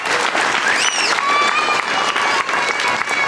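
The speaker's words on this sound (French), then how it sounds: "Donc, un petit applaudissement pour bienvenue." Applause from a crowd at a charity cheque presentation welcoming a new sponsor, loud and continuous clapping, with a few whistles or cheers rising through it.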